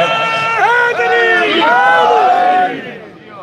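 Crowd at a Shia majlis in Kot Nabi Shah, Phalia, loudly chanting a religious slogan in unison, many overlapping voices with rising and falling calls, steady for almost three seconds before fading.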